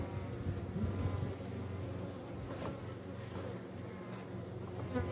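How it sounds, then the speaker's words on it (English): Honey bees hum at a backyard hive, a steady, even drone of many wings close by with no break, holding at a moderate level throughout. "The bees seem quite content with what they're doing"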